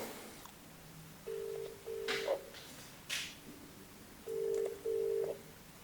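A telephone dials out for a cold call, with short clear tones and beeps in two bursts and faint clicks between them, quiet and close with no talking.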